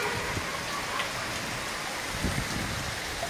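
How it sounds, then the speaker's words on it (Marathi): Steady rain patters down in a continuous hiss, with scattered drops tapping on a surface, even and unbroken throughout. "गारगार वाऱ्याबरोबरच हे पावसाचे टप टप टप टप टप टप आवाज करत हे थेंब टपकतात"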